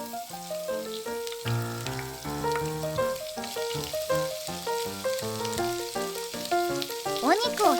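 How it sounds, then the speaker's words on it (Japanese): Sliced pork frying in a pan for supermarket yakisoba gives a continuous sizzle and crackle underneath prominent melodic background music throughout. "最初に豚こまを焼いていきましょう。"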